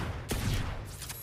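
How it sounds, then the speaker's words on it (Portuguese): Shots from a Sheriff pistol with the electric Overload skin in Valorant: a sharp, close blast with a crackling tail, then a quieter second report about three quarters of a second later. "Disparo da xerife tá muito legal"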